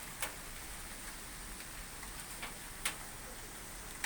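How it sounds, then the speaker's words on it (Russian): Rain falls on a galvanized metal roof in Moscow's Biryulyovo district: a faint, steady hiss broken by sparse, sharp ticks of single drops, with no voices. "когда дождь стучит о вот эту оцинкованную крышу"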